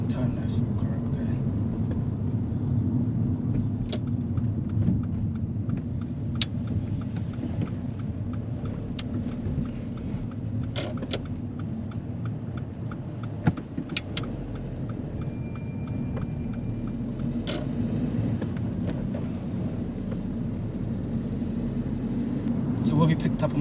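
Steady engine hum and road rumble from a car driving along during a driving test, a continuous low drone with occasional faint ticks and clicks, heard from inside the vehicle.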